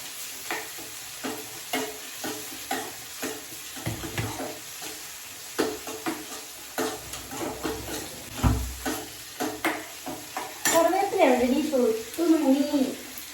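Mustard seasoning sizzles in a pan while a spoon stirs it in regular scraping strokes, close by. A person speaks over the cooking near the end.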